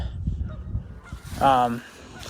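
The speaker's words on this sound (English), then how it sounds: "There's that damn goose or whatever's gonna scream bloody murder because I'm here" A goose honks loudly a few times in a short harsh burst, standing out over quiet outdoor background noise.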